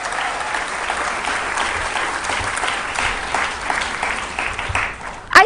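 Sustained applause from a crowd at a business school convocation, dense and even throughout, with a brief louder burst right at the end.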